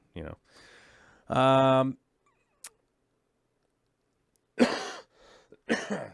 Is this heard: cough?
yes